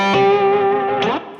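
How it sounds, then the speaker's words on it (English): Electric guitar played on the bridge pickup, a short loud distorted phrase with a sustained note that slides, then a brief bright attack near the end, alone without speech. "I'm going to give you an example where the bridge pickup sounds way better than the neck pickup for me."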